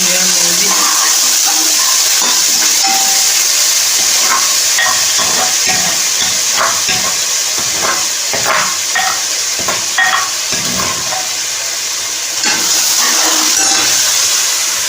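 Pounded spice masala fries and gets stirred in a hot pan, giving a loud, continuous sizzle with scraping and stirring scuffs throughout.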